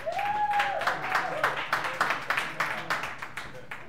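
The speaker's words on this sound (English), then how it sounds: "Clap it up for Derek Muhammad one more time" Audience claps for a comedian at a live comedy show, scattered rhythmic handclaps running under an emcee's voice, moderately faint and steady.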